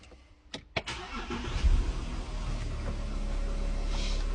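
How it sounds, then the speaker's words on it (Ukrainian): An Audi Q7 4L engine cranks over after a couple of clicks, catches and settles into a steady idle, heard close up inside the car. "Значить, Заводимо автівку"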